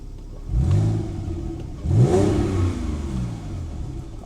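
A Porsche 911 engine revs twice, rising then falling in pitch, with a throaty exhaust rumble idling between the pulls, fairly close.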